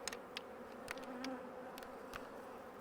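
Honey bees buzz at a strong, crowded production hive ready to be split, a soft, steady drone with brief passing buzzes close by.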